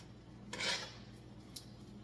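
A knife cutting through pineapple slices, one clear crunchy slice followed by a fainter scrape against a quiet background.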